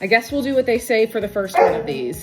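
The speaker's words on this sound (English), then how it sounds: "That is my dog." A pet dog barks and yips near a crochet session, the sharp repeated yaps mixing with continuous talk over the whole stretch.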